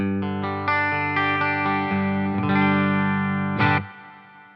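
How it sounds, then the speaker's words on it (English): Electric guitar strums sustained chords through a spring reverb set with a little decay, a springy wash trailing each hit, a final chord ringing out and fading. "this is what it sounds like with the reverb on, and I have it on the spring"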